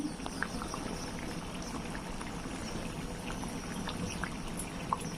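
Pav bhaji vegetable mash with butter simmers in a pan on the stove, giving a continuous close-up bubbling with small wet pops and splutters throughout.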